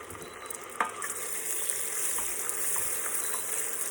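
Butter hitting hot golden homemade caramel off the heat gives a steady close sizzle, with a sharp crackle near the start and light stirring scrapes throughout.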